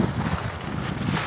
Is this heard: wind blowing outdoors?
yes